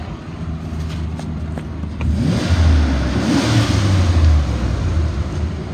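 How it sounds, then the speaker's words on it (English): A 2002 Dodge Ram Van 3500 engine idles, then revs up with rising pitch and holds a louder roar before easing back, close by and without talk. "I'll rev it up."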